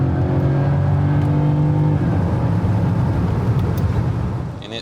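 An early Mercedes R129 SL with a four-speed automatic accelerating at full throttle, its engine a loud, close, sustained roar that climbs in pitch, shifts once and keeps pulling.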